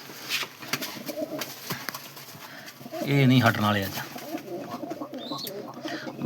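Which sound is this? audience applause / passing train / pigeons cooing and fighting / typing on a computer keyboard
pigeons cooing and fighting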